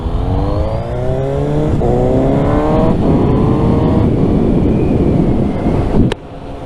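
A Suzuki GSX-S750 inline-four motorcycle accelerates hard through several gears, each rising whine climbing close and loud amid buffeting wind noise before the engine note drops off sharply near the end.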